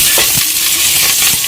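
Dried red chillies and curry leaves frying in hot oil as a tempering, a steady close sizzle with a few stirring scrapes over 1.5 seconds.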